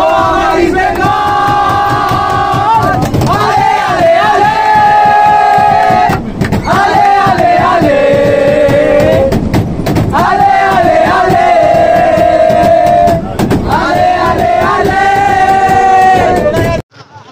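A large crowd of East Bengal football fans chants loudly in unison in the street near the stadium before an I-League match against Indian Arrows, with rhythmic repeated phrases and brief pauses between chant lines.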